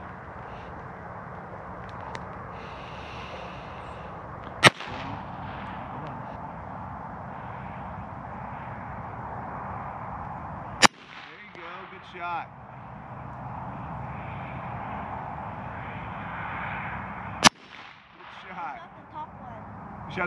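Three sharp, loud gunshots at shooting practice, spaced several seconds apart, each a single crack cutting through steady outdoor wind noise while people talk between shots.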